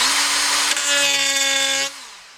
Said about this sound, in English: No problem for this die grinder, and just in case you're wondering, I'll put it on second speed.